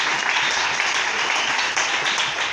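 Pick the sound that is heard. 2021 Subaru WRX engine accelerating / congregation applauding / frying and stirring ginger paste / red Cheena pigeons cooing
congregation applauding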